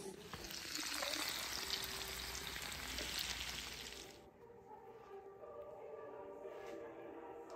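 Beef, bacon and eggs fry in butter in a pan, a dense close sizzle that is loud at first and then drops to a quieter, thinner crackle partway through, with no talk.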